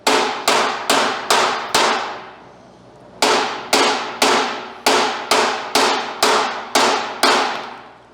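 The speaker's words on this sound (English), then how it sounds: "A bunch of whacks with a hammer, ready?" A rapid series of loud metallic hammer whacks on a hardfaced metal bolt, five in a burst, a short pause, then about nine more in steady rhythm, each ringing briefly.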